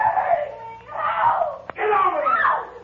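A woman screaming in a radio drama, long wavering shrieks and wails rising and falling, broken by a sharp click midway, then a further drawn-out anguished scream.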